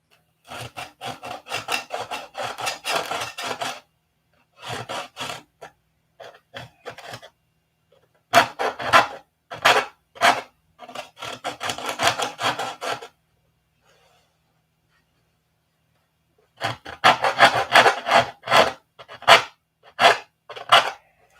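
Sanding a glue-marked spot on a P-47 model wing against a ruler, heard as bursts of dry rasping strokes in rhythmic back-and-forth runs, close and fairly loud, separated by silent pauses.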